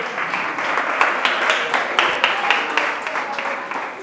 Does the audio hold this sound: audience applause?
yes